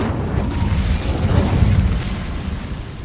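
Incendio fire spell cast in Hogwarts Legacy, a dense roaring whoosh of flame with heavy low rumble, sustained and loud for about three seconds with no talk.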